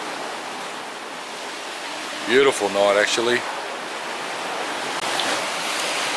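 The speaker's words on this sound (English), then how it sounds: "The waves lapping up on the shore." Waves lapping on a shore at night make a steady soft wash throughout, with a short spoken comment partway through over the continuous surf.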